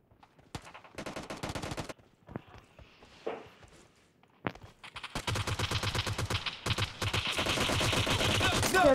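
Gunfire in a mobile shooting video game: short rapid bursts of automatic fire with gaps, then a long, dense, continuous volley at the end, loud and close, with no talk over it.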